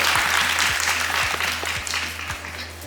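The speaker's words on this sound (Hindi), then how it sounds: "बहुत बढ़िया, जोरदार तालियां हो जाए।" Loud audience applause on a television drama talk show set, a thick burst of clapping that gradually eases off, with a low hum and rhythmic thumps beneath it.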